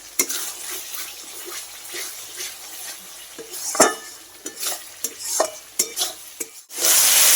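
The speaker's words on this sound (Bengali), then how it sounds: "তো এখন সব কিছু ভালো করে ভেজে নেব।" Garam masala and spices frying in a pan for a jackfruit and prawn curry, with steady sizzling under repeated scraping and stirring clinks of a spatula against the pot, close and fairly loud, ending in a burst of stronger hiss.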